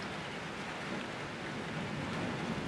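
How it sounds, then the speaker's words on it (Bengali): Steady rain falls outdoors at night as a faint, continuous broadband hiss with no distinct drops or talking, heard as distant background noise. "আজকে বাইরে বৃষ্টি হচ্ছে বলে তো ব্যাকগ্রাউন্ডে একটু মেঘের আওয়াজ হবে"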